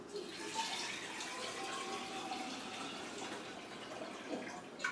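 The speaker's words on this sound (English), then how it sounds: "fill this thing about half with water" Tap water runs steadily into a bottle being filled about halfway for a blue-green algae drink, a continuous soft splashing rush that stays at an even level throughout.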